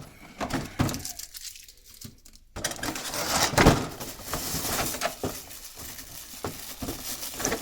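Tape being torn off the plastic and cardboard packaging of a Mondo Evil-Lyn toy, close rustling, crinkling and ripping in irregular bursts with a short quiet gap early on.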